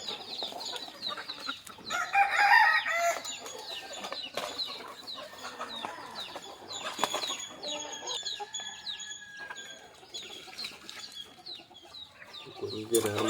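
Country chickens cluck and a rooster crows around a rural yard at morning feeding with bran, with busy overlapping clucks and calls near and far, and a person talking intermittently underneath.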